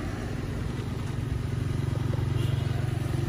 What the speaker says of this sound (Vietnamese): Máy hiện tại vẫn đang nổ to một chút vì máy đang nguội.